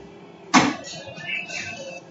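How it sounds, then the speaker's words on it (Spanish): A bedroom door opens with a sharp click of the latch, followed by a faint creak and soft movement. "Se abrió la puerta del cuarto."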